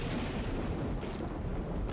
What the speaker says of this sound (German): Es donnerte zur Bestätigung.